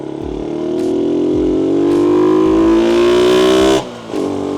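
A modified Yamaha LC135 motorcycle revs loudly up close, its intake trumpet roaring as the pitch climbs steadily for several seconds, then drops off sharply before picking up again.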